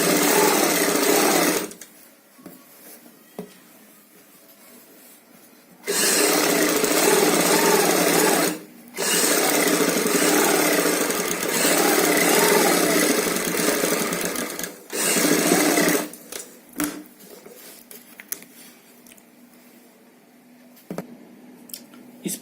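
A sewing machine runs in bursts as it stitches along the edge of a high-neck kurti collar band: three long steady whirring runs split by brief pauses, then shorter stop-start stitching toward the end.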